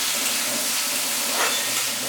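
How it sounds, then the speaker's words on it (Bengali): Drained, soaked atap rice frying in a pan with cardamom for bel payesh, a steady hiss and sizzle that stays even and close, with no talking. "জলে ভেজানো আতপ চালটা দিয়ে দিলাম। জলটা ঝরিয়ে নিয়েছিলাম, এটা ভেজে নেব ভালো করে।"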